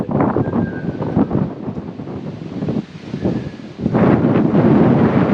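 Strong wind buffets the microphone in steady gusts at the top level of a pagoda overlooking Sun Moon Lake in Taiwan, swelling loudly near the end with no talk.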